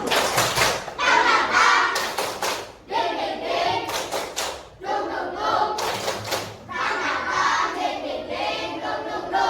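A fourth-grade class performs a rhythmic spirit clap, children clapping in unison in repeated bursts while their voices chant along, the sound loud and close in a classroom.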